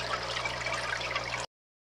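Bubbling, splashing water from surface agitation and aeration in a home aquarium, a steady close trickling wash that runs evenly for about a second and a half before cutting off.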